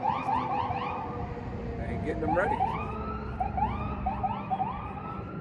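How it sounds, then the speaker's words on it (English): Several sirens wailing at once in rising and falling tones, fairly close and loud, while a person says a few words over them. "You're about to start hearing a lot of these sirens."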